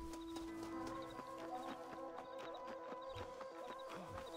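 A horse's hooves clip-clop in a steady, quick rhythm while riding in the Xbox 360 game Red Dead Redemption. The soft hoofbeats repeat over a faint tonal background, with a brief whinny-like sound and no talking.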